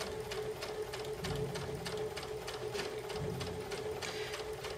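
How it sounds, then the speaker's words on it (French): A sewing machine stitches quilt fabric with a fast, even mechanical patter and a steady motor hum, close up and alone without talk. "on commence à coudre"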